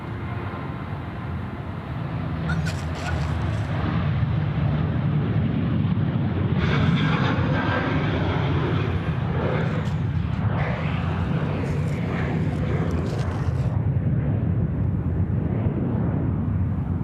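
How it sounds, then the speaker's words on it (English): An Emirates Boeing 777-300 on short final to runway 34 left at Sydney Airport, a continuous loud jet roar that swells and holds with broadband rumble, no voices. "the Emirates 416 coming in from Dubai, the 777-300. Short finals now, runway 34 left"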